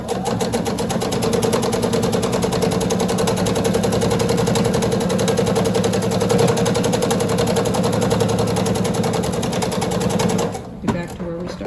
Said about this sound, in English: And we finish sewing that seam now.